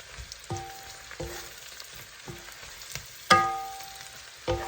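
Mushrooms hit hot oil in a wok, giving a soft steady sizzle punctuated by several sharp metallic clanks of a utensil against the pan, one notably louder.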